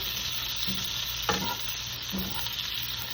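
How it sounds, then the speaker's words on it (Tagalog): Green beans sauté in a pan, giving a steady, close sizzle with a couple of brief stirring scrapes and no speech. "Tapos, ilagay na natin itong beans."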